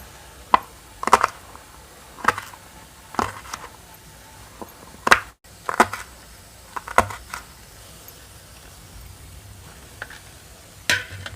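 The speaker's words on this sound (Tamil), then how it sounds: "இந்த வெங்காயத்தை வெட்டி வச்சுட்டு தக்காளியும் நறுக்கி வச்சுக்கலாம்." A knife chops onions and tomatoes on a cutting board while a brinjal and chickpea tamarind curry is prepared, with sharp, separate cuts at an uneven pace and a few quick double strokes. The cuts are fairly quiet, with no talk.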